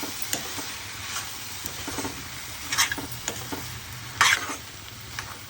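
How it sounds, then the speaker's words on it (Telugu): Prawn shells frying in a pan for a cucumber and drumstick curry, with a steady low sizzle broken by several louder scraping stirs and clinks close by, no talk. "రొయ్య పొట్టు వేసుకుందాము. నిమిషాలు వేగాలండి."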